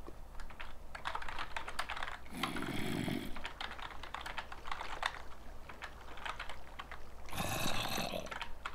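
Someone types on a computer keyboard during a Minecraft UHC session, a fast, close run of light clacking keystrokes with short bursts of heavier key presses in between.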